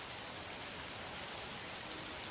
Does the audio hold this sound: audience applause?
no